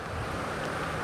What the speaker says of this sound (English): It's windy, the traffic's coming past.